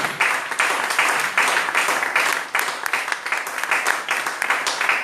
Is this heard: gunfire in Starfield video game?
no